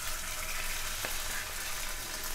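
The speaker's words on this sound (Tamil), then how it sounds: "இப்போ நம்ம வந்து எண்ணெயில் வந்து சிக்கன் 65 போட போகிறோம்." Chicken 65 pieces fry in hot oil, giving a steady, broad, fairly quiet sizzle with a single brief tap partway through and no voices.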